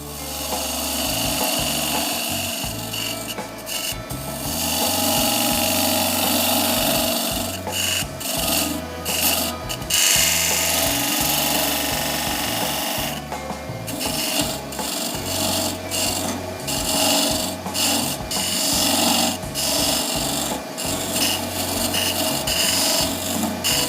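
A lathe tool cuts into a spinning blank of galaxy resin and dyed burl wood, making a loud, continuous rasping scrape. The scrape pulses rhythmically with repeated short passes and no one speaks.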